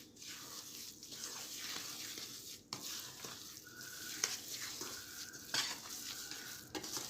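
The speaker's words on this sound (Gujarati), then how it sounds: "હવે આપણે બધું મિક્સ કરી લઈશું." Jaggery being stirred into roasted flour in a pan for adadiya, a soft steady scraping and stirring with light sizzle and occasional clinks of the utensil against the pan, no voices.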